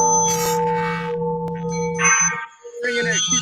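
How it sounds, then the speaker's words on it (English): Many bells ring together for a Peace Day event, a steady, sustained chorus of clear ringing tones that carries on without pause, with voices mixed in underneath. "Ring your bells for peace."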